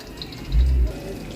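Water is drained from cooked rice while making chicken biryani, a brief low splashing pour at close range over faint kitchen background noise.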